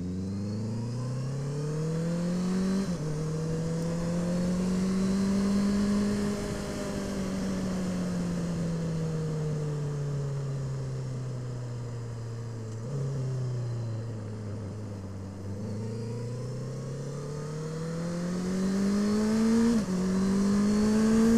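Honda CB650F motorcycle engine running steadily while riding through town on a winter day, a close, continuous mid-pitched drone that rises and falls smoothly with throttle, with brief gear-shift dips and no talking.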